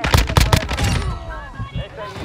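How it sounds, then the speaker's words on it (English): Rapid bursts of gunfire from a sniper shotgun in a video game, several loud shots close together at the start before the sound trails off into quieter game noise. "Is this a sniper shotgun?"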